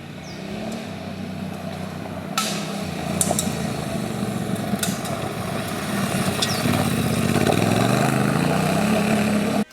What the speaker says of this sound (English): Beautiful torquey engine.